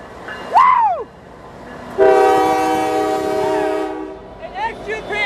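Norfolk Southern locomotive 9885 sounds a loud, near, sustained multi-tone horn blast lasting about two seconds, with an excited voice cheering before it and shouts faintly after.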